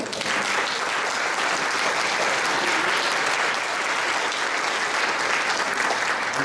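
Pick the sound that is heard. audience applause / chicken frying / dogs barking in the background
audience applause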